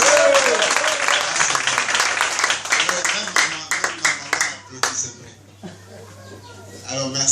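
Loud applause from a congregation at a priests' prayer vigil, dense clapping that starts at full strength and then thins into scattered claps before dying down, with voices in the background.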